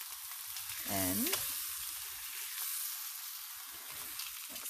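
Beef shank searing in a hot pan for birria: a steady, loud sizzle and frying hiss throughout, with brief scraping and stirring noises and a person's voice speaking briefly.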